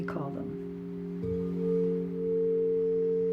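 A crystal singing bowl of emerald, morganite and platinum alchemy rings with steady, sustained harmonic tones after a soft strike, swelling slightly as it sings on alone.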